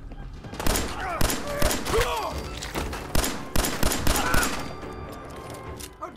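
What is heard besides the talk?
gunfire in the video game Fallout 4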